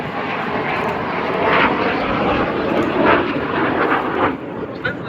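A pair of Strikemaster jet trainers performs a flying display at RAF Cosford, their loud continuous engine roar swelling and easing as they manoeuvre overhead, with short surges in the noise.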